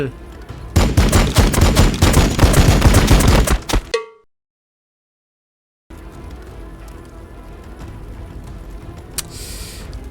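Dense, rapid bursts of gunfire from a Warhammer 40K Battlesector battle in the Blood Angels campaign, loud and continuous for a few seconds before cutting to silence, then a quieter battle ambience returns.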